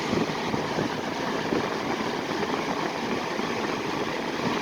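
A 2003 Lakewood model 202 electric fan with steeply pitched blades runs steadily, giving a continuous broadband whoosh of moving air with a low motor hum, close and even throughout with no talking.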